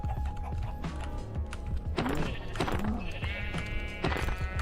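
Sheep bleating in the Minecraft video game, several short bleats in a row over a busy background of game sounds and footsteps.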